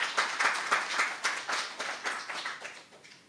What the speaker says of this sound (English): I would ask you to give him a round of applause